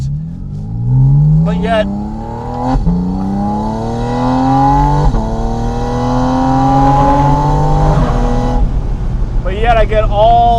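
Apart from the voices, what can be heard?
Porsche Spyder RS engine accelerating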